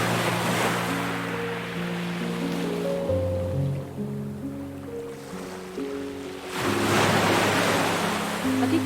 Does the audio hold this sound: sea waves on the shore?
yes